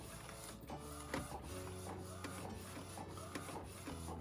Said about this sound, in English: So it's printing now.